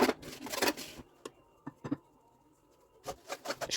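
Crushed biscuit and peanut mixture being stirred with melted butter using a wooden spatula, soft crumbly scraping and rustling bursts close up, with quiet gaps in between.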